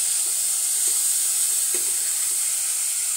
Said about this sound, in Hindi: जो ये छन छन की जो आवाज़ है ना, ये ख़त्म हो जाए